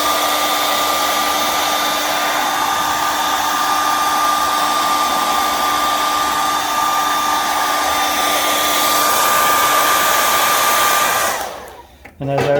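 Handheld hair dryer blowing on a clay bottle during trimming, a loud steady whooshing drone with a constant whine, close and alone, cutting off near the end.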